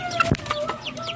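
Shamo chickens clucking close by, several short clucks and chirps in an uneven rhythm over a faint background hum.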